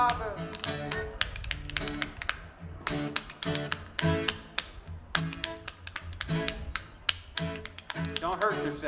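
Spoons played as percussion in an old-time folk music setting, quick bright clacking strikes in rapid rhythmic runs with brief gaps, close and lively, with voices and other sounds mixed in.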